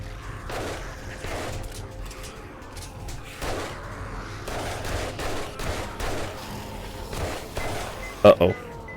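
Repeated bursts of gunfire in the survival game 7 Days to Die, aimed at a demolisher zombie, come in uneven volleys with sharp louder cracks near the end, under speech from players.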